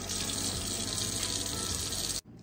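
Tap water runs steadily into a kitchen sink while strawberries are rinsed, a close, constant splashing hiss that cuts off abruptly near the end, leaving quiet room tone.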